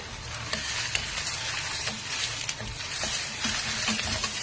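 Three tomatoes frying for pappu pulusu hiss in a steady, close sizzle that runs throughout, with faint stirring clicks and no talking.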